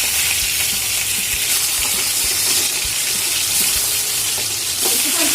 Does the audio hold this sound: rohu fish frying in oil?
yes